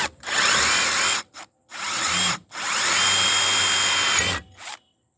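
Milwaukee multi tool whirring in drill mode, three loud sustained bursts of spinning motor separated by brief pauses, close up with no talking.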